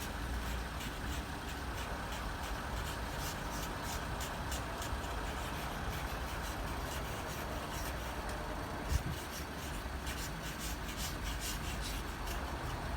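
A car engine idles steadily while a heated front windscreen clears ice, a continuous low rumble with no talk and a single faint knock partway through.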